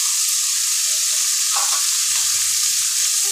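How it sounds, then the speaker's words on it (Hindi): Tomatoes, onions and green chilies fry in a pan with a sprinkle of salt, cooking for shahi matar paneer, giving a loud, continuous sizzling hiss with a brief brighter flare in the middle. "टमाटर को सॉफ्ट होने तक का हम कुक कर लेंगे"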